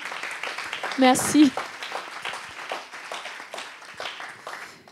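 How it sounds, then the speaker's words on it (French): Applause from a round-table audience, a light scattered patter of hands running throughout, heard beneath a speaking voice that briefly thanks the crowd. "on peut l'applaudir."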